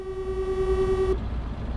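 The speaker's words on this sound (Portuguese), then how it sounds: "Buzina de carro, mano." A truck horn in Euro Truck Simulator 2, sounded from a modded Scania 143M: one steady, fairly loud tonal blast lasting about a second before cutting off into engine rumble.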